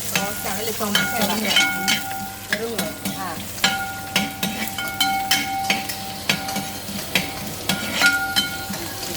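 Mustard seeds and grated coconut frying in hot oil for a mussel dish, a loud continuous sizzle broken by rapid popping crackles and the repeated scrape of a spoon stirring the pan.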